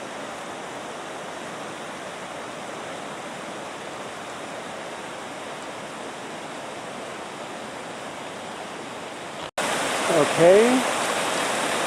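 Floodwater rushing through an altered creek bed makes a steady broadband roar close by, running unbroken for most of the stretch before a sharp cut and a brief louder burst where a voice speaks.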